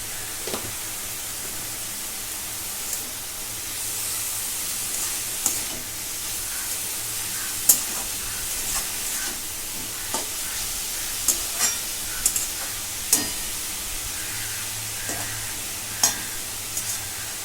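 Shepu (dill leaves) cooking in a pan on a gas stove: a constant soft sizzle with scattered clicks and scrapes from stirring, and no voices.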